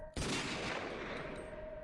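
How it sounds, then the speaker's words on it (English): A gunshot in a video game: a sudden loud broadband blast that rings out and decays over about a second and a half, with no talk over it. "Gunshot."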